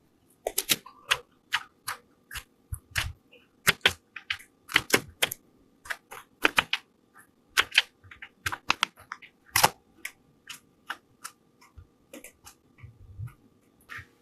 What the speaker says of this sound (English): I'm going to cut up my berries.